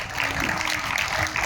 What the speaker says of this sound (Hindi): इसीलिए जोरदार ताली है।